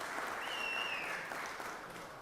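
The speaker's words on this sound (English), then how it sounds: "Let's give Miss Strickland a round of applause" A round of applause fills a Georgia Senate chamber during a session as members clap to honor a senator's wife, steady dense clapping that slowly tapers, with a faint whistle-like tone briefly above it.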